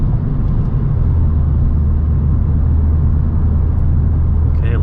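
Kia Stinger GT2 with Borla active valve exhaust in sport mode, a constant deep droning rumble heard from inside the cabin, steady and fairly loud with no clear rev changes.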